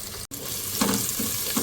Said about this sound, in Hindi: इसको हम थोड़ा फ्राई करेंगे ताकि लहसुन से और हरी मिर्च पे अच्छा सा कलर आ जाए